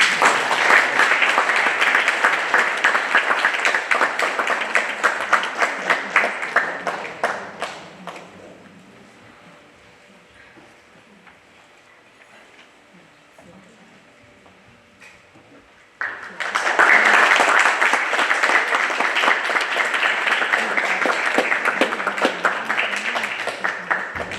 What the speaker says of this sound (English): Please have a round of applause for her.